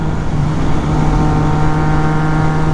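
A Triumph Trident 660 motorcycle engine pulls hard under acceleration in sixth gear, giving a steady, loud drone with a sustained low tone and no pauses, and nobody speaks.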